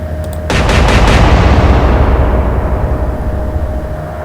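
Naval guns in the Atlantic Fleet video game open fire: after a brief rattle, one heavy, loud boom lands about half a second in and rolls into a long, slowly fading rumble, with no speech.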